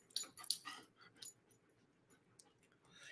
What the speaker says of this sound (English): Yes, he's a happy dog.